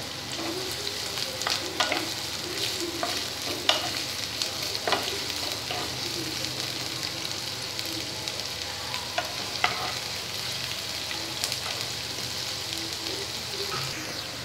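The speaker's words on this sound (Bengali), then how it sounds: "এবার আমি এই তেলের মধ্যে পেঁয়াজ কুচি দিয়ে দিচ্ছি পেঁয়াজটাকে একটু ফ্রাই হতে দেবো" Chopped onion fries in hot oil with a loud, continuous sizzle close by, dotted with crackles and pops throughout a long stretch with no talk.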